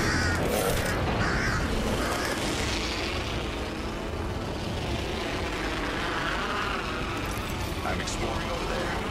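A raven caws in the Apex Legends battle game, harsh calls near the start rising over a dense, loud wash of game noise and rumble that continues throughout.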